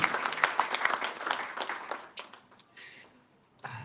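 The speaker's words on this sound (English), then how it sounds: "Somebody want to clap?" Audience applause at a comics awards ceremony, a burst of many clapping hands that thins and fades, then picks up briefly again at the end.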